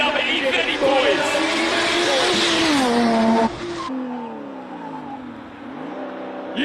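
A classic BMW E30 revs hard at a Cape Town classic car Saturday, its engine pitch climbing and falling in loud sweeps close by, then easing to a lower, steadier drone, with people talking over it.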